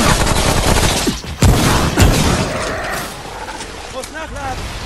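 Gunfire in the co-op game Remnant, several loud sharp shots early on followed by scattered battle noise and chirping creature sounds, with talk alongside.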